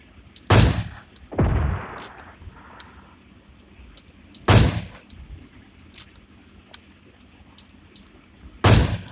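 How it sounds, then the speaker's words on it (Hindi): An RPG firing in PUBG Mobile Lite, heard as several loud, boomy blasts spaced a few seconds apart, each with a short rumbling tail over a quiet game background. "यही था आरपीजी वाला, उन लोग पे आरपीजी चला रहा है, आप लोग सुनाई दे दिया होगा"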